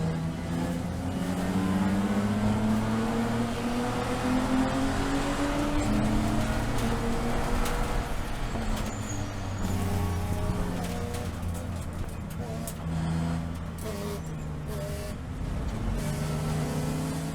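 BMW Spec E46 race cars in an SCCA Super Tour race at VIR sweep down toward the first turn on the opening lap, a dense, continuous roar of many engines with rising and falling revs.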